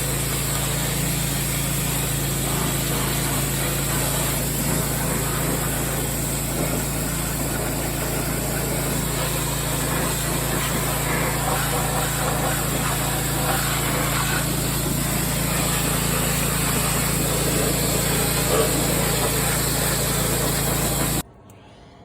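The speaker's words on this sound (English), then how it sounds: "And hit it with the pressure washer." Pressure washer blasting the engine bay of a 1985 Chevy Blazer, a loud constant spraying roar with a motor drone underneath that runs unbroken for about twenty seconds before cutting off.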